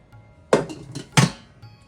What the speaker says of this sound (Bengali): এবারে এর মধ্যে আমি ধোয়া মাটনটা দিয়ে দেব।